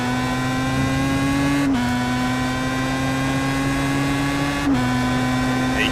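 A Pro Mazda race car powering out of a corner at Suzuka in a racing video game gives a steady, loud engine drone with strong harmonics, dipping briefly twice as the gears shift.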